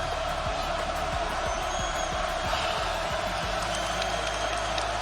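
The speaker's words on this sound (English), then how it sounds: "Also gets the crowd into this ball game" Basketball arena crowd at a Purdue versus Virginia game, a steady roar of cheering filling the whole clip, with faint ball bounces and shoe squeaks underneath.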